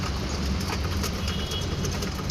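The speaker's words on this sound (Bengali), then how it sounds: "এই যে আমি কবুতরের আদার দিতেছি" Pigeons gather at scattered feed, soft cooing and fluttery activity blending into a dense, steady background noise at close range.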